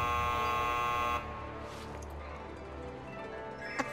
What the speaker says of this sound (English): A buzzer, I think.